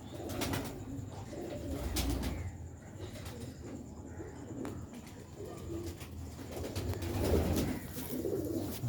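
Sialkoti grey roofed pigeons coo softly and repeatedly close by, their low throaty calls rising and falling over a faint background hum.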